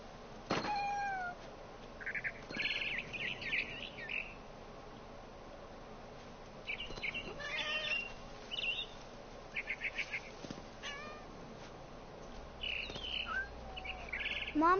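Frightened bird chirping in What Remains of Edith Finch: short, high, rapid chirps and trills come in scattered bursts over a low ambient background, with a brief squeal near the start.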